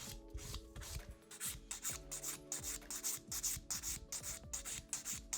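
Acrylic coffin-shaped nail being filed with long, even strokes bevelled toward the tip, giving a steady series of close, rhythmic rasping swipes with no talking.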